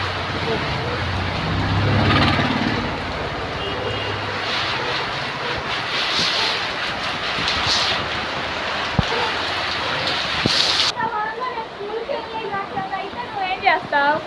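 Steady heavy rain roars close by, a dense broadband wash, with a low engine-like rumble underneath and faint voices, ending in drips and patter.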